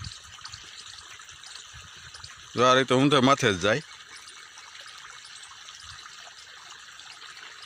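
Irrigation water runs steadily across a village farm field in Saurashtra, a continuous soft wash that carries through the whole stretch, with a voice speaking briefly over it near the middle.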